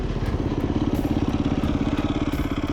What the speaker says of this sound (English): We finally got the bike fired up without too much trouble, and then headed into the trails.